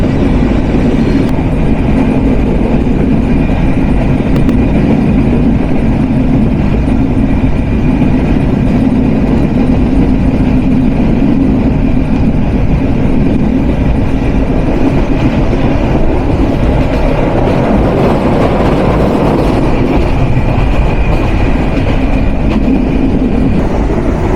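Chitra Express, a popular southern Bangladeshi intercity train, rolls steadily along the rails with a continuous loud rumble and faint clickety-clack of wagons, no voices, sustained throughout.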